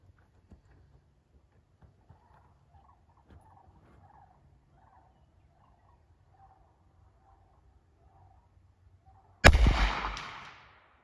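One loud, sharp 38 Special gunshot fired from a rifle over a chronograph, a single near blast near the end that decays quickly after a stretch of faint background sound.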